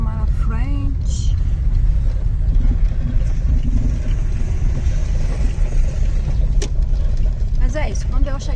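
Cars passing on a road near a cement factory, a steady loud rumble of traffic and engines, with someone talking over it.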